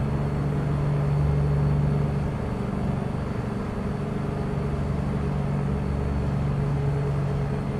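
A deep, steady Peterbilt 388 wrecker truck engine in American Truck Simulator drones continuously at a constant loud level, with a low rumbling hum and no breaks.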